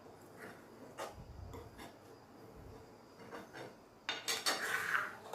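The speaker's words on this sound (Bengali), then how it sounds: "চিনিটা দিয়ে আবার একটু নেড়ে দিচ্ছি।" Sugar being stirred into rice pudding (payesh) in a pot, heard as scattered spoon clinks and scrapes against the metal, with a louder stretch of clattering toward the end.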